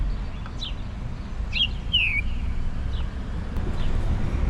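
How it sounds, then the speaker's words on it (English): Several birds chirp and tweet in brief, scattered calls outdoors near a triangular City Hall building beside a memorial, over a steady low hum of traffic and wind. "the birds are singing for us today"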